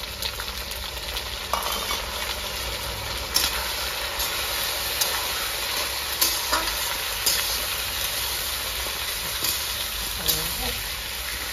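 Tomatoes fry with ginger-garlic paste and chopped green chillies in a pan, a steady close sizzle and hiss with occasional stirring clinks and scrapes throughout.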